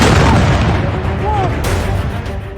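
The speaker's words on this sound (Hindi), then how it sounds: "जहां इजराइल सबसे ज्यादा संवेदनशील है, धमाके हुए" Booming explosions roll through news footage of an attack on Israel, a loud, dense low rumble that fades slowly, with a faint voice underneath.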